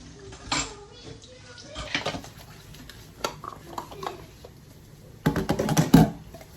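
Dishes, pots and pans washed at a kitchen sink, with scattered clinks and clatters of metal and ceramic, faint water patter, and a louder burst of banging cookware toward the end.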